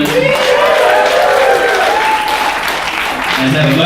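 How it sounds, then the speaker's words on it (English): Audience applause at a comedy roast show, a dense sustained burst of clapping from a live crowd that stays loud and steady throughout, with some voices mixed in. "Can we have a round of applause for Kirsty, ladies and gentlemen?"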